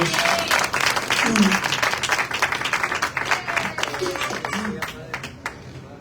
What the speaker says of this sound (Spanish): Le pueden regalar un aplauso a Dios